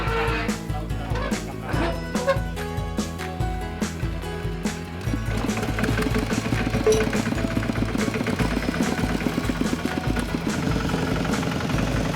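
A steady low tractor engine idle chugs along with a rhythmic knocking pulse in Cambodia, joined midway by a louder, rougher motor rumble.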